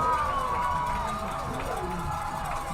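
A football crowd fills the stands at a Wilton versus Greenwich high school game, a dense roar of cheering and shouting with a commentator's voice over it, everyone on their feet for the final play.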